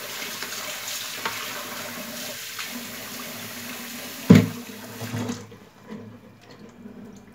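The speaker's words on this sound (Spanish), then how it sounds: "ahora la voy a echar en agua y la voy a enjuagar" Tap water runs steadily into a sink while seafood for a paella is rinsed, with a sudden splash or clatter near the middle before the flow stops and the sound fades.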